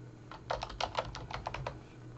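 Rapid keystrokes on a computer keyboard as a password is entered, about a dozen crisp clicks in an uneven rhythm, close and moderately loud over faint background hum.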